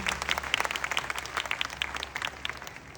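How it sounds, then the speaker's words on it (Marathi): An audience claps at an event, a dense burst of applause that starts strong and slowly thins toward the end. "त्यांच्यासाठी जोरदार जोरदार टाळ्या झाल्या पाहिजे"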